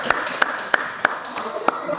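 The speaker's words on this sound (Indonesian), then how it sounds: "Ya, tepuk tangan untuk kelompok 1." A classroom clapping for a student group, heard as a handful of sharp, evenly spaced claps at a brisk rhythm over low background sound.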